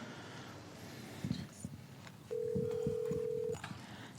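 Telephone line tones during a county board of supervisors public comment call transfer: a few short clicks, then a single steady tone held for about a second before cutting off, with quiet room noise around it.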